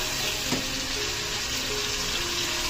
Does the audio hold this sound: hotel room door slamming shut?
no